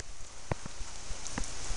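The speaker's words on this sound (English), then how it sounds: "raining horribly." Dense rain hisses steadily on surfaces during a thunderstorm, with scattered louder drops and splashes breaking through the constant wash.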